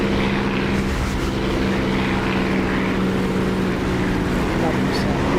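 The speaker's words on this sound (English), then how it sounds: "Once I open the canopy, you get that like prop wash" Propeller aircraft in the DCS flight simulator with the canopy open, giving a steady, dense roar of prop wash and rushing wind over a constant engine drone, unbroken for several seconds.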